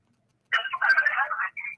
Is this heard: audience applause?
no